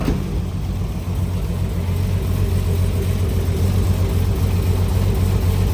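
A Datsun 280Z with a built RB26 engine swap running, a steady low idle rumble held throughout at moderate loudness, with no talking.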